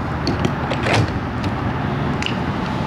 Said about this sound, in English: door swings up